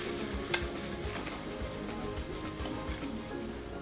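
Seasoned vegetables sautéing in a pan with a soft continuous sizzle, a sharp utensil clink near the start and occasional light stirring knocks.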